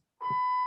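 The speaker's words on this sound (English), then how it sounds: "oh great, that's my smoke alarm." Household smoke alarm sounding a single sharp electronic beep, starting abruptly after a brief silence and holding a steady piercing tone, close and fairly loud.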